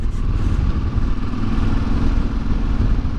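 An Aprilia Tuareg 660 or Yamaha Ténéré 700 motorcycle engine drones loudly and steadily up close, accelerating in sixth gear, with rushing wind noise over its rough mechanical rumble.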